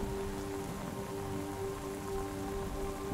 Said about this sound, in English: Listening to the sound of the rain on the ground and on the canvas, your mind begins to drift.